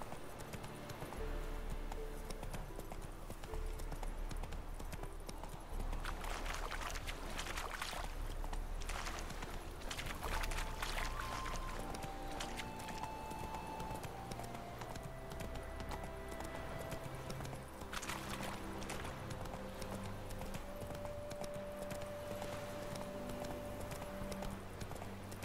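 In The Witcher 3, Roach trots with a soft, even clip-clop of hooves beneath a continuous wash of game music and ambience, the hoofbeats fairly quiet throughout.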